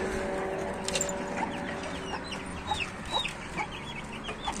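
Chickens and a rooster in a farmyard flock, with soft clucks and brief chirping calls scattered over a steady background murmur, close but fairly quiet and with no talk.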